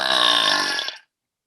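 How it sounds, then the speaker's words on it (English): A single long, loud, close burp lasts about a second and ends abruptly into silence. "You talked over your burp."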